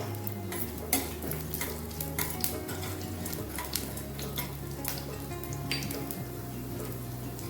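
Tempering spices fry in about three tablespoons of hot oil in a kadai, crackling and sizzling steadily up close, with scattered pops and the scrape and clink of stirring, no voices.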